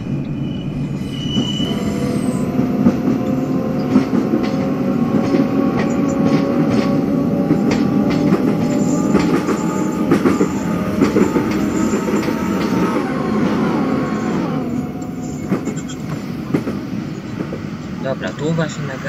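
A Gatwick Express BR Class 460 'Juniper' electric train running in Train Simulator 2019, with a rising motor whine, screeching wheel squeal and rumbling rail noise that continues throughout at close range.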